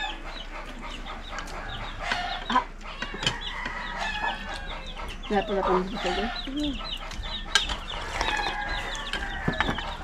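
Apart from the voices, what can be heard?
chicken clucking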